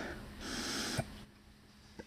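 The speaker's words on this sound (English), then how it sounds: "Then do a cut off sniff" A single faint nasal sniff is drawn in through the nose and cut off abruptly, with a small click after it against low background hiss.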